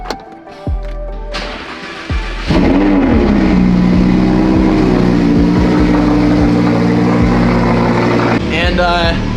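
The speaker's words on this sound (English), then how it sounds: "get a cold start on the Huracan" Lamborghini Huracan cold start on a snowy day: a starter whir and click, then the engine catches with a loud bark and settles into a high, steady idle drone, with a voice speaking briefly near the end.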